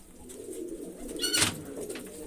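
Pigeons of the Fauji breed coo softly in a loft, a short low cooing with a brighter burst of bird calls around the middle, heard close and without talk.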